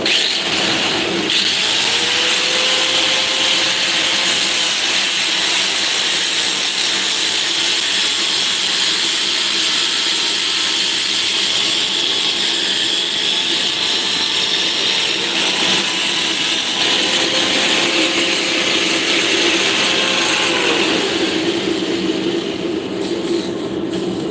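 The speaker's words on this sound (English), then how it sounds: "I'm going to clean this end up over here first. Here's using a grinder" In a workshop, a grinder cleans up the cut end of a metal piece. A loud, continuous motor whine and rough grinding noise run unbroken for over twenty seconds, with no speech.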